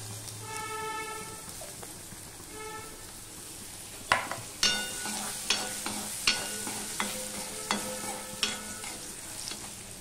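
Chopped ginger frying in hot oil with turmeric for a mixed dal: a steady sizzle begins partway through, punctuated by regular sharp clacks of a utensil against the pan. A tonal, horn-like sound comes beforehand.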